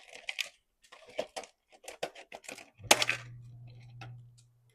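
Scissors cutting open arrow packaging: a run of close crisp snips and plastic crackles, with one louder crack followed by a steady low hum that fades out.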